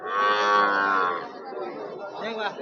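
A cow lets out a long, loud moo nearby at a livestock market, followed by fainter lowing and a murmur of background chatter.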